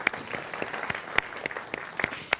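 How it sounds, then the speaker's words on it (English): A church audience at the Center for Spiritual Living in Santa Rosa claps in a brief, scattered round of applause, with individual sharp claps standing out from a soft crowd patter. "Yes, you can applaud yourself for that."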